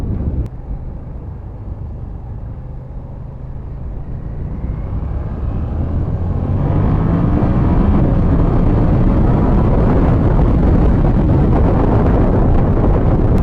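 Strong wind noise roars over a motorcycle rider riding without a windshield, a loud constant rumble that builds as speed rises and then holds at full force, with no talking.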